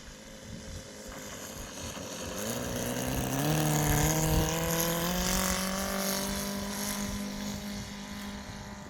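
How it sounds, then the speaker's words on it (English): A large RC airplane makes a wheel landing touch and go, its engine and propeller drone rising in pitch as it passes close, then holding a steady loud whine before easing off slightly, with no talk. "execute the perfect wheel landing to a touch and go"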